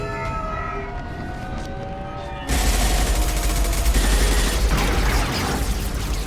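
A firefight in Mass Effect 2 erupts suddenly after a quiet musical passage, dense rapid gunfire and loud booming rattle continuously under a wailing siren-like tone.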